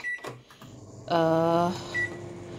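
A microwave oven preheating before baking a homemade cake for rabbits: soft clicks and a short beep, then a loud steady electric hum for about half a second before settling into a quieter running drone with another brief beep.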